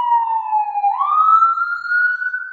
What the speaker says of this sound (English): my bad about the sirens driving by